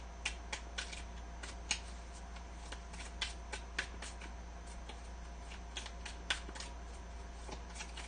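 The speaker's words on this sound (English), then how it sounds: "They're shuffling kind of nicely." Tarot cards being shuffled by hand during a Sunday-night live reading, giving a steady run of soft riffling clicks and flutters, close and fairly quiet over a low hum, with no talking.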